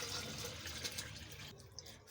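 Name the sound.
pouring full-fat milk for a date milkshake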